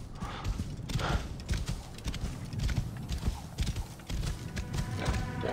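Hooves of a horse galloping in Assassin's Creed Origins, a rapid rhythmic clip-clop running steadily for several seconds, loud and close with no speech over it.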